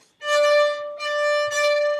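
Bowed string instrument holding one sustained note while the bow bounces on the down stroke, giving three stuttering swells with short dips between them, close and fairly loud, no talking.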